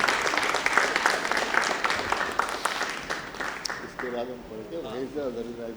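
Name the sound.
applause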